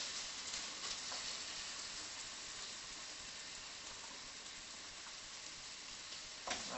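Thin steak stir-frying in a wok with Seville orange, a steady, fairly quiet hiss of sizzling fat and spitting oil that holds constant throughout, with a brief louder clatter near the end and no talk.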